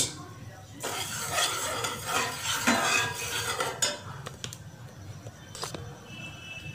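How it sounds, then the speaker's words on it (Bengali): A spoon stirs sugar into boiling water in a metal frying pan to make a thin syrup, scraping and clinking against the pan in uneven bursts, close and fairly loud, with no voices. "এই ফ্রাইং প্যানেই করে নিচ্ছি একটু চিনির শিরা।"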